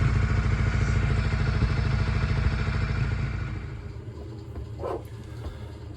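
A Honda CM125 motorcycle engine runs close by after a spark plug change, idling with a steady rapid clatter that softens partway through and settles into a quieter, even putter.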